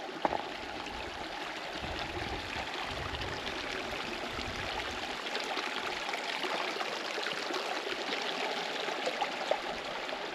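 A creek in Wyoming's Snowy Range flows steadily nearby, a continuous rushing babble of water over rocks with no talk.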